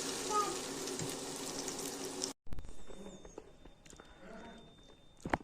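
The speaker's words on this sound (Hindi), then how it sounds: "तो अभी मैं सेकंड बैच जो है स्पून से डाल रही हूँ।" Onion pakora batter spooned into hot oil in a home kitchen in Kashmir, a loud bubbling sizzle that breaks off, then quieter frying with clinks and movement.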